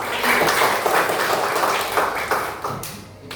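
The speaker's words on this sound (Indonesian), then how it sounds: "Ya, tepuk tangan." A classroom of pupils clapping hands together at a teacher's cue, a dense, steady burst of many hands lasting a few seconds before tapering off.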